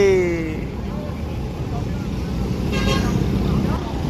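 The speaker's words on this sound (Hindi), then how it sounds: "हमारी गाड़ी जा रही है भाई" A car pulls away along a road amid steady traffic rumble and noise, with a short horn toot at the start and people talking over it.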